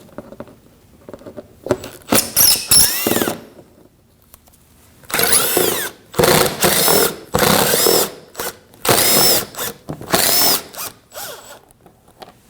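Power drill or impact driver unfastening 5.5 mm screws from the front bumper cover of a 2015-2024 Ford Edge, heard in repeated loud whirring bursts of one to two seconds with short pauses between them, close up and without talk.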